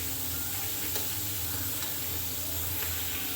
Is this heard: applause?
no